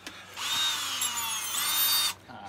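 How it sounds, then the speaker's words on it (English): A very small homemade sander built from a drill runs at a steady high whine for about two seconds, loud and close, starting and stopping abruptly. "It's a sander. Very, very small sander."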